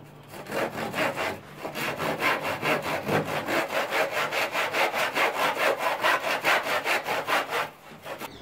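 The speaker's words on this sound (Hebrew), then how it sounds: "עכשיו מה שאני עושה זה הולך לנסר כאן את הפינות האלה של העץ, כדי שפשוט יהיה ארגז." A hand saw cuts through the wooden corners of a crate being built for storing camping gear, making steady, rhythmic rasping strokes, loud and close, that continue for about eight seconds before stopping.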